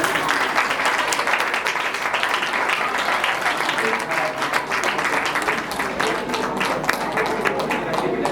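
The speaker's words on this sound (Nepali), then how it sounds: "ताली बधाई दिनुहुन्छ।" A crowd claps steadily and loudly throughout at a Nepali Christian wedding ceremony, a dense, continuous round of applause with some voices mixed in.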